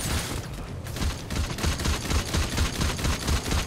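Rapid automatic gunfire in a video game, a dense burst of repeated shots in a steady rhythm, loud and continuous throughout.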